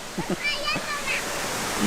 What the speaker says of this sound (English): we're gonna see if we can get a nice shot with her in front of the waterfalls here